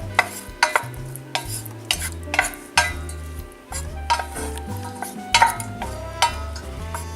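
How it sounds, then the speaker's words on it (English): Green beans tossed with a generous amount of butter in a pot, a spoon knocking and scraping against the metal in quick irregular strokes over a faint sizzle, close by, without speech. "Stir that up."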